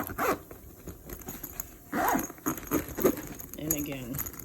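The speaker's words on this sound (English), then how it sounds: "And again, double zipper" A double zipper on a lunch bag is pulled closed in several quick, close zips over light handling noise, with a person talking alongside.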